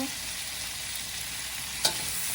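Cabbage stir-fries Asian style in a hot pan, a steady close hiss of sizzling oil throughout, with one brief sharp scrape or clink near the end.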